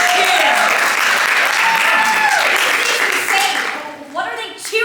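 A crowd cheers and applauds loudly and steadily after a rousing battle speech, a dense wash of clapping and shouts that thins near the end.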